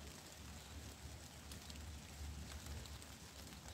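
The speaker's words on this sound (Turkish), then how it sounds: "Yağmur yağıyor acayip." Rain falls outside a rural home, a soft, faint, steady patter with a low rumble underneath, continuous and without talking.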